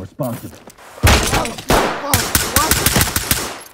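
Rapid gunfire in the tactical police shooter Ready or Not, a loud close burst of sharp repeated shots following a single earlier blast, with voices talking through the action.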